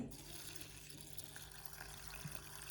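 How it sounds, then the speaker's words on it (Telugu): A quiet, steady stream of water poured over urad dal and fenugreek seeds runs continuously with a soft gushing hiss, and no talking. "వాటర్ పోసుకొని"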